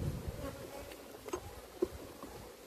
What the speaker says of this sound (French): Tout c'est d'écraser un minimum d'abeilles.